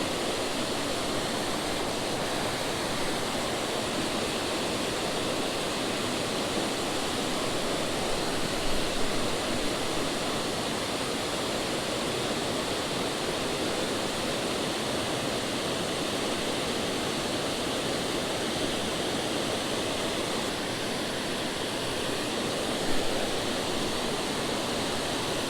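A creek waterfall pours in a steady, dense rush of broadband noise, constant and unchanging throughout, with no voices or other sounds standing out.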